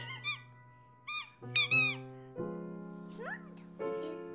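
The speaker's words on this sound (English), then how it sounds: "Just a squeaky thing." Rubber squeaky toy for a baby squeaked in several short, high, bright bursts at the start, then a longer squeeze, set against steady cartoon background music.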